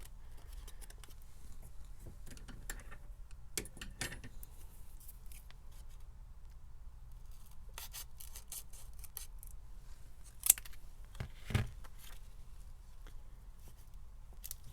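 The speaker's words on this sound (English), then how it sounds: "I'm going to go ahead and cut them, trim them down just a little bit." Scissors snip through paper squares being trimmed for junk journal specimen cards, a few quiet, scattered cuts and rustles in a quiet room with no talking.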